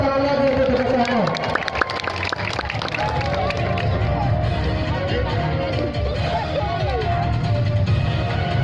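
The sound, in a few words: audience applause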